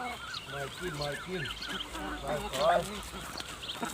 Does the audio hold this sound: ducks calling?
yes